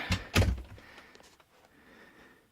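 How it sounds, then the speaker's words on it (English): An indoor door swings shut with a couple of sharp thunks near the start, followed by faint room noise and small rustles in a collector's shelf room. "We'll close the door."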